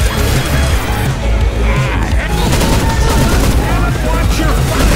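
Sustained rapid gunfire from a big mounted gun in the video game Left 4 Dead 2, a loud dense continuous barrage with crashing impacts filling the whole stretch.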